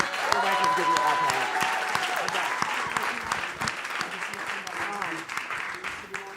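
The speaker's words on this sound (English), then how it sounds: "So please give them a round of applause." A crowd at an evening artists' event claps in sustained applause, loud at first and gradually thinning, with a voice and tonal sounds rising over it.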